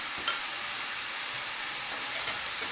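Food sautéing in hot oil in a pan, a simple shakshuka-style stir-fry cooked on the stovetop, with a steady close hiss of sizzling and faint stirring throughout, no talking.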